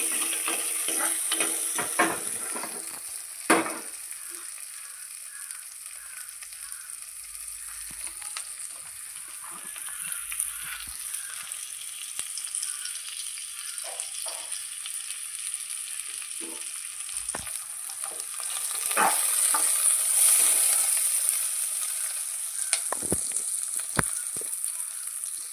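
Sliced shallots frying in hot oil in a pan for a fish curry, a steady close sizzle with occasional stirring clatter and crackle, no talk.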